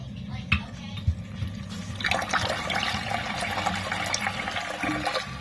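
Water rushing and filling into a toilet tank after a flapper replacement, a steady close hiss and gurgle starting after a couple of soft knocks, with a voice briefly heard at the start.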